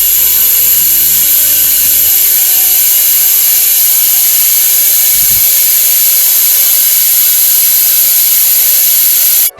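Oil change device pumping six litres of oil into the DSG7 DQ500 gearbox of an Audi RS3 8V2, a loud, steady high-pitched whine with a hissing edge, continuous for several seconds before cutting off at the end.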